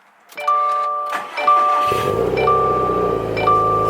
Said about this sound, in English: Start it up, foot on the clutch.